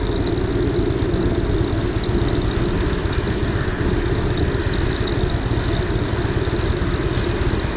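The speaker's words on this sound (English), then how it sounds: "Y'all hear him downshift?" A motorcycle engine downshifting while braking, a steady close rumbling drone with a fast pulsing beat throughout and no obvious rev jumps, loud and alone without talk.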